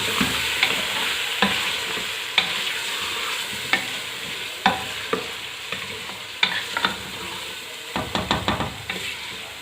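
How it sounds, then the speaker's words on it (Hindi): Ginger garlic paste frying in a pan for a mutton curry, a steady soft sizzle broken by repeated sharp scrapes and taps of a spoon stirring, close and fairly quiet. "अदरक लहसुन का पेस्ट तकरीबन 1 टेबलस्पून भर के। इसको थोड़ा सा फ्राई करेंगे।"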